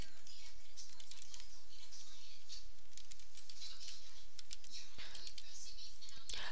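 Rapid, uneven key clicks from a computer keyboard patter continuously at close range, with a faint background hiss and no talking.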